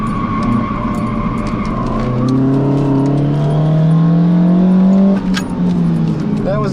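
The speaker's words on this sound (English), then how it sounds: "That was that snap oversteer with that weight transfer just then." Toyota MR2 engine rising in pitch under acceleration on a race track, with tyre noise from a sudden snap oversteer. Loud and close, heard from inside the car.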